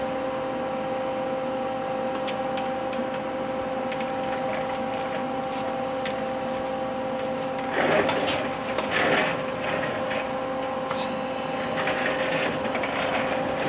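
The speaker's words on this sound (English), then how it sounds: "So I'm going to fire it up with my plasma cutter here." A plasma cutter on a CNC plasma table cuts leftover steel stock. Over a steady mechanical drone, short crackling bursts flare up, then a thin, continuous hiss sets in toward the end, close and moderately loud, with no talking.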